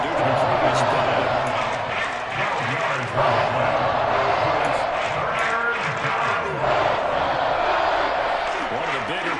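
Crowd cheering in a football video game, a dense steady roar from a large stadium crowd, loud and continuous, with rising swells and talk running over it.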